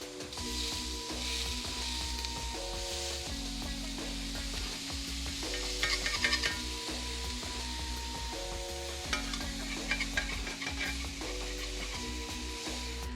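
Smash burger patties frying in a pan, giving a steady, close sizzle that runs the whole time under soft background music, with occasional scraping and stirring noises over the top and no voices.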